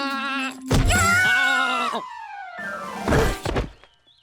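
A cartoon goat bleats in long wavering cries, one sustained call followed by another loud bleat, with a few thumping knocks between them.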